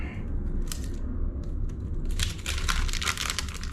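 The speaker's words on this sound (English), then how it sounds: "it's very well packed, so it's a little hard to open" A tightly packed envelope of custom bike decals being pried open, giving irregular papery crinkles and crisp tearing bursts that grow busier toward the end over a steady low background rumble.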